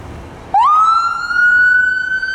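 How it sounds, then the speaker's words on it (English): A loud ambulance siren suddenly wails up and holds a high, steady tone, close by, with faint traffic noise beneath it. "And there's an ambulance."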